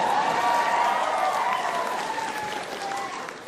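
A live stand-up comedy audience bursts into loud applause and whooping cheers, the clapping dense and sustained near the front, then tapering slightly while still going strong.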